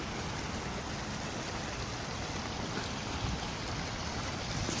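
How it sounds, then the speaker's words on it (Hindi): A small artificial waterfall in downtown Toronto, its water splashing in a dense, steady rushing hiss that holds even throughout, close and continuous with no voices over it. "छोटा सा झरना इन्होंने बनाया है।"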